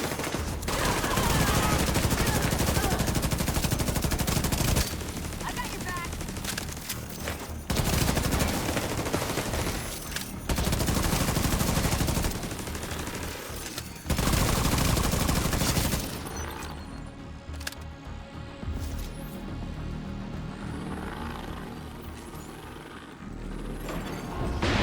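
Video game gunfire in The Division 2: dense, loud bursts of automatic fire and shots crackle almost continuously in several long volleys, then thin out into scattered shots over a quieter, busy background.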